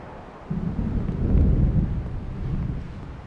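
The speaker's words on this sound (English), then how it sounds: "The storm is almost here." Storm rumble building in the video game Alan Wake Remastered: a deep, swelling roar of approaching thunder with windy, rain-like wash, loud and continuous, peaking midway then easing slightly.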